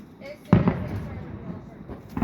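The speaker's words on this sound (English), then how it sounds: "They just set off all their fireworks at once." Fireworks from a school finale go off in a cluster of sharp, booming bangs, with a couple of strong bursts and then rolling crackle and rumble, heard from a distance.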